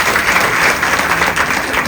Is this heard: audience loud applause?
yes